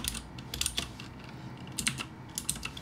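Typing on a computer keyboard, quick bursts of clicky keystrokes in short clusters with brief pauses, close up.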